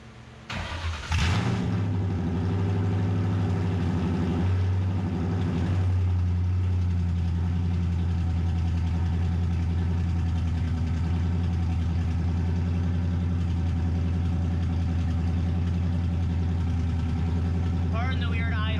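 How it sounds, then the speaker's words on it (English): Engine of a 1999-2004 Ford Mustang with vacuum problems starts up and then idles roughly, a steady close drone running throughout with a brief rev near the start. "Car in the weird idle, the car has some vacuum issues."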